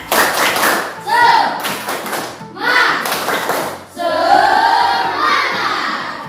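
Schoolchildren in a classroom do a rhythmic 'tepuk semangat' cheer, with bursts of clapping and taps mixed with loud group chanting and voices, close and lively.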